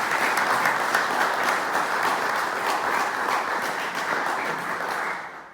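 An audience at a men's breakfast gathering applauds to welcome a speaker, a dense, steady wash of clapping that fades out at the end.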